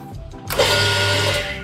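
A Hazen EPC130HZN jet cleaner pressure washer motor switches on and runs with a steady, fairly quiet mechanical whir after a brief moment of near silence.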